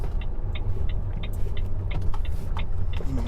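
A vehicle drives toward the Klaipėda terminal. A steady engine and road rumble runs throughout, close to the cabin, with faint regular ticking on top and no speech.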